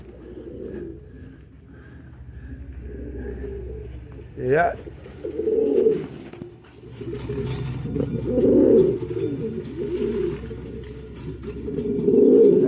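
A pigeon coos at its loft in soft, repeated calls beneath someone talking steadily, with one sharp louder cry partway through.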